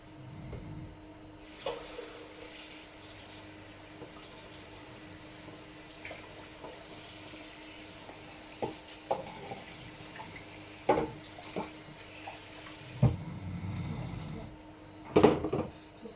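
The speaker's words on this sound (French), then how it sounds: "Je vais avoir besoin de l'égouttoir. Il faut que je le lave." Tap water runs into a kitchen sink while a colander is washed, a steady hiss with clinks and knocks of the strainer, stopping briefly near the end before restarting.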